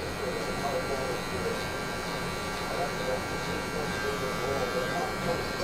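Electric hair clippers buzz steadily while cutting hair for a low taper fade, a close continuous hum with someone talking over it the whole time.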